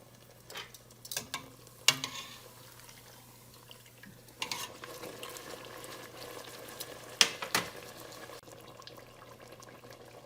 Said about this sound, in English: We're done frying those 6 Indian bread tacos.